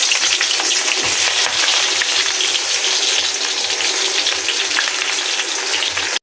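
Sliced onion sizzling in hot oil in a pan, the oil heated for cooking noodles, a loud, dense frying hiss with crackles and occasional stirring scrapes, continuous and close with no talking.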